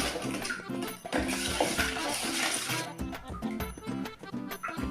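A spoon stirs and knocks against a vessel while fish kolumbu ingredients are mixed, giving rapid, irregular clinks and scrapes that go on nonstop at close range, with some talk in the background.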